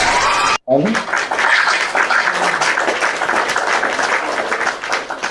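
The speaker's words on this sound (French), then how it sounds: "Voilà, quelques acclamations." Applause and cheers from a panel audience, a thick, continuous wash of many clapping hands following a short burst of voice at the start, sustained and fairly loud throughout.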